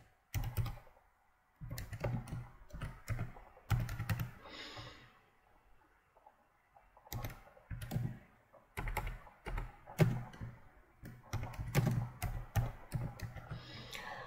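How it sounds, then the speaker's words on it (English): Fast bursts of typing on a computer keyboard while entering text for an online store website, crisp close clicks in uneven runs separated by short pauses. "I can either click, highlight it and type in here"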